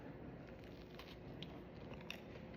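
Crisp bites into walnut banana bread with a crackly outer crust, a few soft crunches and chewing sounds, close but quiet, with no talking.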